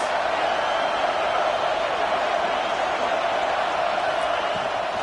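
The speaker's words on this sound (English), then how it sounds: "This crowd trying to make life miserable for this offense." Steady roar of a packed stadium crowd at a Mississippi State versus Notre Dame college football game, a continuous broad wash of noise with no break, loud and even throughout.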